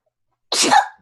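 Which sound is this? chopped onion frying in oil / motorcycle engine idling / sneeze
sneeze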